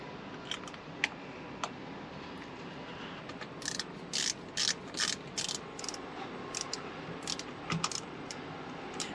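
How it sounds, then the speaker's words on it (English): A ratchet tightens Torx bolts holding the airbag on the steering wheel of a Suzuki Grand Vitara (Escudo), clicking in quick close bursts of pawl ticks with short pauses between strokes and no talk. "We have 2 Torx bolts, we'll tighten them."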